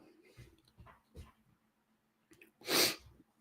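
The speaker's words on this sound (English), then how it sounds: "Another sneeze." A single loud sneeze bursts out after a few quiet breaths and sniffs, close to the microphone.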